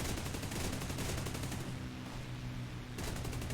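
Cannons of a Hurricane Mk2 fighter in War Thunder, with loud, rapid, sustained bursts of automatic fire, a short lull with engine drone, then firing resumes.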